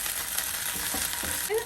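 Garlic, ginger paste and cumin frying in hot ghee, a steady close sizzle with faint stirring scrapes throughout the brief moment, with no talking.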